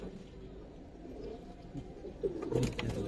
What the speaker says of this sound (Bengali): এগুলো ঘরের কবুতর